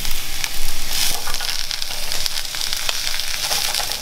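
Onions sizzling and frying on an Australian barbecue hotplate beside sausages, a steady loud crackling hiss with a few sharper pops and scraping touches, close up and with no talk.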